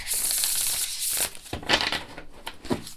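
An oracle card deck being shuffled, with bursts of crisp, papery riffling and rustling in quick succession, close up and with no one talking.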